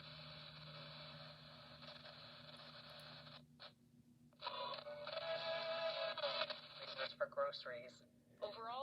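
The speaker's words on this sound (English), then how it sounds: "Now, powering the radio on. I'm going to tune to a station where I won't get content ID matched." Indin BC-R21 portable radio tuned to an FM station, its small speaker playing steady broadcast sound that drops out briefly mid-way, then returns fuller with shifting tones and a few warbling sweeps near the end.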